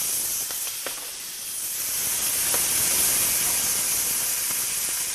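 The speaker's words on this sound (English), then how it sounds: "I'm going to sear these now" Steaks sear in a hot pan with a loud, unbroken sizzling hiss that swells slightly and holds steady throughout, with a few faint pops in the background.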